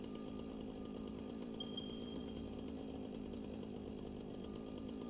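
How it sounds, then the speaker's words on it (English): A chainsaw in the game Satisfactory runs with a low, steady idling drone, faint and continuous throughout with no voices. "Yes, I have a chainsaw, Lizard Doggo."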